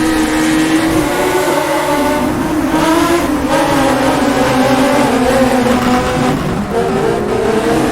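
1960s Formula race car engines in the rFactor2 racing game roar loudly and continuously, their pitch rising and falling through gear changes as several cars run close together.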